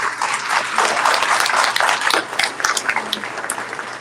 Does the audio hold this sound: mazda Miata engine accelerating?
no